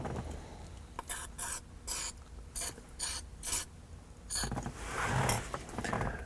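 Dry lubricant sprayed into the ignition switch of a 1998 Chrysler Town & Country, heard as several short hissing bursts separated by pauses, with a longer spray near the end, close up and with no talking.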